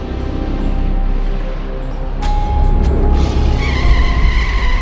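A taxi on the road skids with squealing tyres over a rumbling engine, the screech rising sharply partway through and continuing loud to the end, with no voices.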